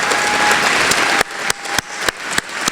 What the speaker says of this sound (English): So, can I have a round of applause for the staff?